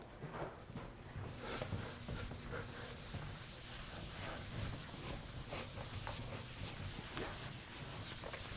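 A whiteboard or chalkboard is erased in a math lecture, with steady rhythmic rubbing strokes that run continuously for several seconds, close and fairly loud, after a brief quieter start.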